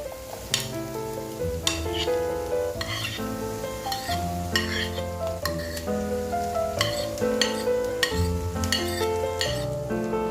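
Beans being stirred into fried rice in a frying pan, with a steady sizzle and repeated scraping, clinking stirs of a utensil against the pan, fairly close and continuous.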